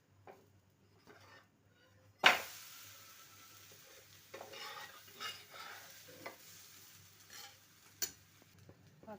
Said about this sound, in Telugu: రాయలసీమ కడప కారం దోశ అయితే రెండు సైడ్లో కూడా కాల్చుకోవాలి